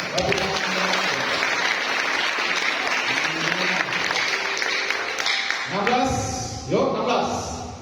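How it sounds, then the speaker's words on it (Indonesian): A church congregation at a Good Friday service claps loudly and continuously, with crowd voices mixed in and rising cheers toward the end. "Yang menang dong. Tepuk tangan."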